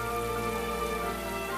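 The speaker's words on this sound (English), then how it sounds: "They changed it because it's raining." Rain falls steadily in the video game Atelier Ryza 2, a constant soft patter over a tonal music bed with no voices.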